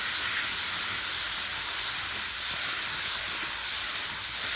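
Running water rinses chopped, freshly harvested plant material, a steady broadband hiss of spray and flow that holds evenly throughout with no voices.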